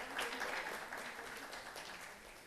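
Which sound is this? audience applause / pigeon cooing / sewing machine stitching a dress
audience applause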